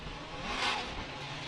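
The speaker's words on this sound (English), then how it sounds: "You can hear the engines revving and purring" A Formula Drift car engine revs in the distance at a 2015 Miami event, a faint, brief rising whine that swells and then eases over a low rumble.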